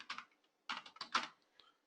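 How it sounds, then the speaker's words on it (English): Computer keys are tapped in a few short, close bursts of light clicks with brief pauses between them, quiet. "Now over here I'll type the repository URL"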